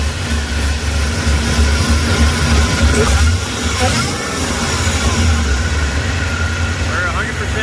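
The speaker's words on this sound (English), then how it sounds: "I want to see the boost bypass works whenever we rev it" A Ford SVT Lightning pickup fitted with a Whipple 3.4L supercharger runs loud and close with a steady engine drone throughout, swelling slightly around the middle, while people talk over it.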